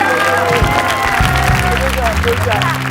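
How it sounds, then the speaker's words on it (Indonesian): A studio audience applauds and cheers for comedian Cak Lontong. The dense, loud clapping and crowd noise blend with a sustained musical tone, close and continuous throughout. "Tepuk tangan buat Calontong"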